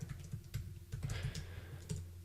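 Keys on a new computer keyboard clatter in quick, uneven bursts, soft and close, a short run of tapping with no voices.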